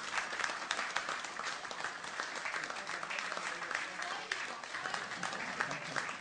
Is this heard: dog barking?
no